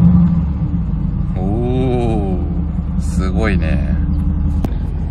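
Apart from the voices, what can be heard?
supercar engine starting and revving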